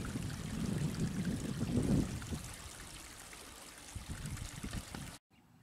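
A creek running with snowmelt rushes and trickles steadily nearby, loudest at first, then settling into a softer flow.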